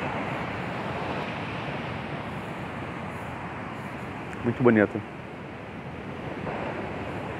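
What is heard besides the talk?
ocean waves where the Douro River meets the sea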